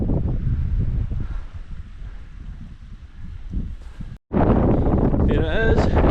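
Mountain wind during a snow storm near a summit, a steady rough gusting roar buffeting the microphone, loud and close, with a brief dropout before it surges back; a voice is faintly present under it.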